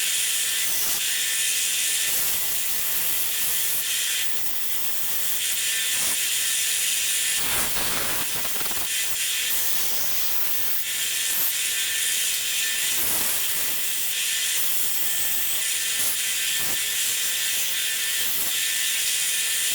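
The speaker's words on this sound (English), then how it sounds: "Now we're back over to the belt sander." A belt sander smooths a piece of wood, a loud continuous abrasive hiss and whir running steadily throughout with occasional brief bursts and knocks as the workpiece shifts against the belt.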